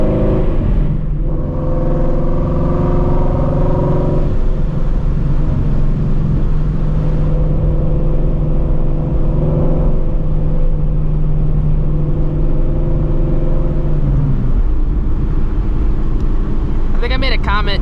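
A Shelby GT350 with a stock Borla exhaust, driven at night on damp roads on radial tires, roars loud and close, its engine revving and pulling hard through gears with a sustained rumbling drone.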